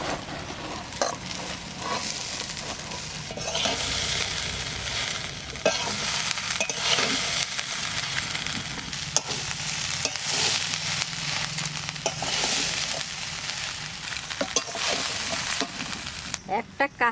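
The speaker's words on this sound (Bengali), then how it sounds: "সবজিটা ভাজা ভাজা হয়ে গেছে, এইবার ওই চালটা দিয়ে দেব।" Mixed vegetables frying in a pan for kaon rice khichdi, a continuous loud sizzle with repeated stirring scrapes and clatters across the whole stretch.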